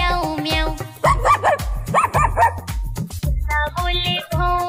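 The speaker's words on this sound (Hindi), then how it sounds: "कुत्ता बोले भौं भौं" A cartoon dog barks repeatedly in a Hindi children's rhyme, with sharp, loud yips set against a bouncy musical backing and a sung vocal line.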